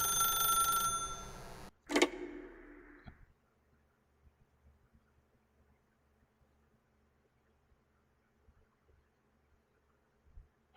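A telephone rings in The Stanley Parable video game: one loud electronic ring, cut off, then a brief second ring fades away into near silence with faint scattered clicks.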